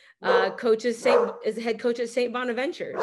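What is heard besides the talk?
dog barking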